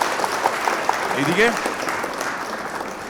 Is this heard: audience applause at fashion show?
yes